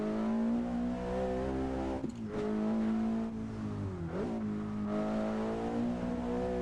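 Simulated car engine in a driving simulator video game revving hard toward redline, a loud steady whine with two quick dips as the revs drop and climb again, then holding high.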